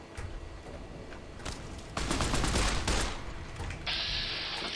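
Rapid bursts of 10mm pistol gunfire from Fallout: New Vegas crack in quick succession, with the heaviest volley landing around two to three seconds, followed by a sustained high ringing tone.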